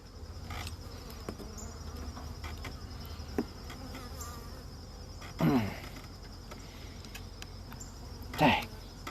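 Honeybees buzzing steadily around an opened hive as a frame is pulled out, a constant moderate drone with a few louder passes of individual bees flying close by.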